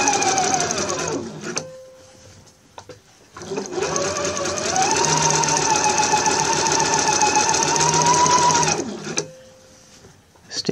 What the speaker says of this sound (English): Let's start stitching. So we're going to go fairly slowly. Going to stitch all the way around.